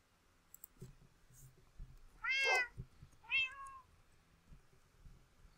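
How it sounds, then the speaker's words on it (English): A house cat meows twice in quick succession, each call loud and near, with clicking and faint background noise around it during a Minecraft gaming session. "Oh, shut it, kitty."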